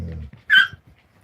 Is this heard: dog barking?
yes